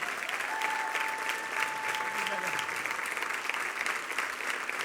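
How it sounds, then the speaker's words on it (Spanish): A church congregation at a Spanish-language service gives a loud, warm welcome applause for a visiting pastor, a thick, continuous wash of clapping that stays level throughout, with a faint sustained tone beneath it. "recibamos con un fuerte aplauso al estilo vital a mi gran amigo"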